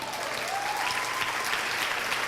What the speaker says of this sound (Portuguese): Gente, isso é tremendo, aplauda o Senhor.